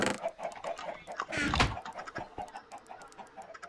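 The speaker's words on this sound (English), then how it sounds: "This is my chicken!" A Minecraft chicken clucks in short bursts, with a louder squawk near the middle, over a busy game soundscape and scattered clicks.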